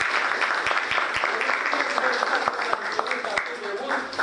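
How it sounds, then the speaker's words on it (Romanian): Audience clapping at the opening of a painting exhibition, a moderate steady patter of many hands in a room, with scattered sharper claps and murmuring voices underneath. "Felicitări și aplauze că le meritați!"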